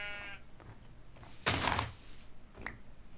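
Sheep in the video game Minecraft bleat loudly once in a wavering cry, with softer game clicks and thumps before and after it.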